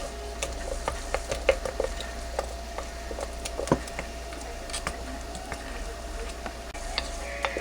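Comfrey poultice ingredients are stirred and mashed together, giving soft irregular scraping and wet clicking strokes close by over a low steady hum.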